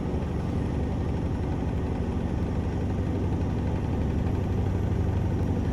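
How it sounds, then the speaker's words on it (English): Mack B62 truck with a 375 horsepower engine pulling a Fruehauf dry van in American Truck Simulator, a steady low rumbling drone heard alone at an even, moderate level. "Love the sound of this engine"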